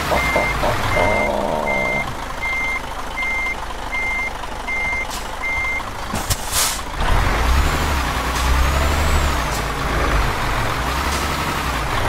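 A truck reversing in the video game Euro Truck Simulator 2, a steady series of evenly spaced reverse beeps over a low idling engine, then a sharp hiss of air brakes and a deeper engine rumble.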